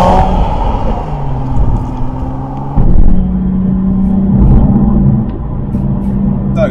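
A modified Nissan 370Z fitted with an oil cooler idles with a steady low engine rumble, close and fairly loud, with one brief swell in revs partway through and no talk.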